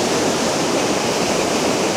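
Steady, loud rush of a waterfall on Mt Hood in the wilderness, a dense continuous roar of falling water with no breaks, heard alone and close.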